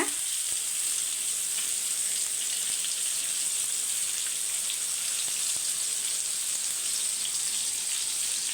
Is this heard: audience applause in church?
no